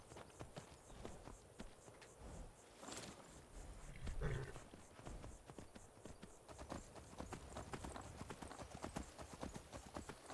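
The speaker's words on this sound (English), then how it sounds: "Oh, the horse followed me." Horse hooves clip-clop steadily in the video game Skyrim, a brisk, even walking rhythm close by, with a brief rustle in the middle and faint game ambience underneath.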